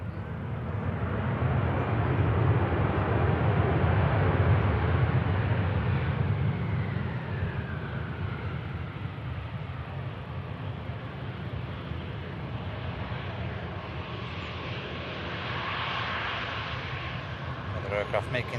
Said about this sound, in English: Aer Lingus making light work of the touchdown.